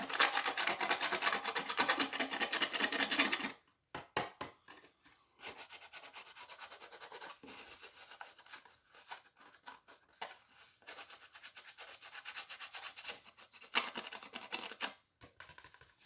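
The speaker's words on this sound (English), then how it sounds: "I'll just rub that off. You can use your fingernail." Excess gold rubbed off a stamped craft surface with a fingernail, close dry scratchy rubbing strokes, a dense burst at first, then intermittent softer scraping with short pauses.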